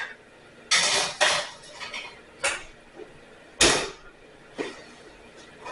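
A pear pastry going into an oven preheated to 400 degrees: several separate metallic clunks and knocks, with a creak and a tray or door thud spaced a second or so apart, close by, no talking.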